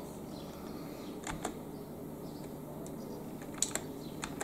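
Computer keyboard keys being pressed at a PC desk setup, a handful of sharp isolated clicks and taps spaced irregularly over a quiet room hum, close and faint, with no voices.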